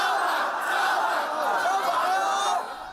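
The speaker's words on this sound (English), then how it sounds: "a large crowd gathered at the junction of Argyle and Tong Choi streets" A large crowd gathered at midnight at a street junction during a protest makes a dense, continuous murmur of many voices with occasional louder shouts, fading slightly at the end.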